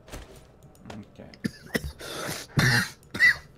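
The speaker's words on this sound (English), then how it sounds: "No, that was just me coughing." A person coughs a few times in short bursts, close and moderately loud, with brief throat-clearing noises and scattered faint sounds between.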